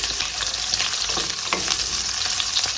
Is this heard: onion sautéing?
yes